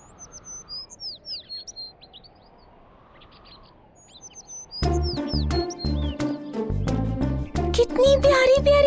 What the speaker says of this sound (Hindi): कितनी प्यारी प्यारी चिड़िया है। बहुत प्यारी है।